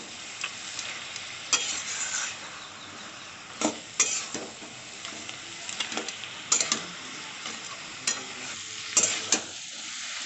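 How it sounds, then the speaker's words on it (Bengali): A spatula stirs fried fish head into cabbage in a pan, giving irregular scrapes and sharp metallic taps over a light, steady sizzle, close and fairly quiet. "এবার এর মধ্যে ভেজে রাখা মাছের মাথাটা দিয়ে দেব মাছের মাথাটাও খুব ভালোভাবে মিক্সড করে নেব"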